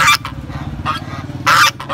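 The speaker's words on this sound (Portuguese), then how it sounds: "compra o ganso, ele é cantador, meu" A goose honks loudly and close at a rural livestock swap fair in Brazil's northeast, with two strong nasal calls and lighter honks between them over a low crowd murmur.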